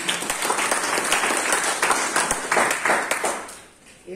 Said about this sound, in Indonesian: Tepuk tangan dulu bagi Yesus Tuhan.